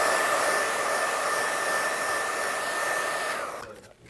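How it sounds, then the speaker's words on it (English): A hair dryer blows steadily and loudly on a fresh painting, a continuous whine with a high tone, then switches off and spins down at the end. "Now, let's dry that. Give it a quick dry."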